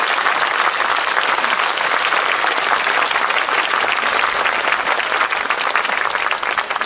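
A large audience at a lecture in Bongha Village gives loud, dense, sustained applause, a steady roar of many hands that continues without a break for the full seven seconds.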